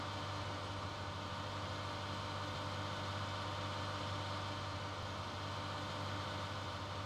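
A tractor engine in the video game Farming Simulator 2019 drones steadily with a low, constant hum, running without letup and with no voices over it.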